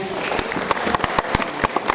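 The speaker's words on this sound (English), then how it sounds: "And a round of applause for all my under 12s." Audience at an award ceremony clapping, scattered sharp hand claps over a murmur of crowd and voices, fairly close and moderately loud.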